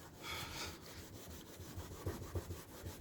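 A Stanley blade scraper fitted with a new blade scrapes glue residue off a car body after a badge removal, producing quiet, rhythmic scratchy strokes close by.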